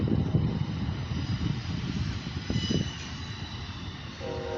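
A long freight train pulled by two locomotives rolls past at Main Street, a steady broad rumble of cars heard from inside a vehicle, continuous and fairly loud throughout.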